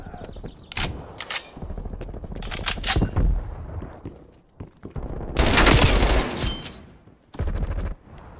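Bursts of automatic gunfire from Call of Duty Black Ops Cold War, loud and close. The volleys come in several rapid strings separated by short pauses, with one longer, dense barrage near the end.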